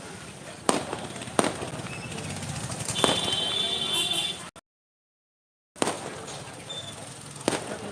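Several sharp firecracker bangs pop at intervals over a crackling background, with a brief dead silence in the middle before more blasts, set off by a fan crowd outside Annapurna Studios.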